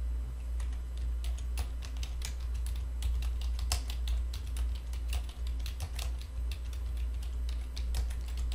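Steady typing on a computer keyboard during accounting data entry, a dense run of close, crisp key clicks with irregular rhythm over a low constant hum, no voices.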